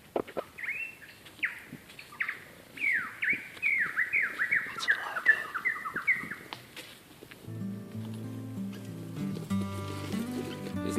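A lyrebird calls in Kosciuszko National Park, giving a run of loud, close, sweeping whistled notes and rapid chirps that mimic other sounds, then shifting into a steady, electronic-like tonal pattern similar to an alarm.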